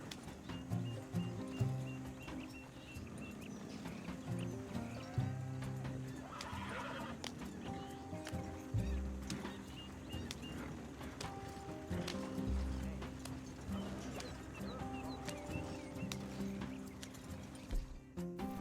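Horse hooves clip-clopping at pace in the Red Dead Redemption 2 video game, with loud whinnies and neighs over a busy, continuous game soundscape of music and ambience.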